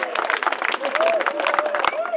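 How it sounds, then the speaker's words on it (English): A crowd gives a round of applause for Plucky: dense, steady clapping fills the whole stretch, with a whistle or cheer rising above it and a few voices mixed in. "round of applause for Plucky."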